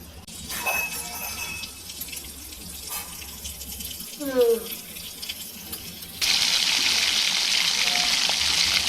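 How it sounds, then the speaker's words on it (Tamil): Prawns frying in hot oil in a tiny miniature pan: softer clinks and trickling sounds come first, then a loud, steady, hissing sizzle takes over and continues to the end. "கொதிச்சதுக்கப்புறம் இறாலை தூக்கி போடுங்கம்மா"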